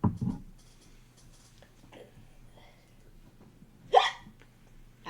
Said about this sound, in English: I got the hiccups and they hurt.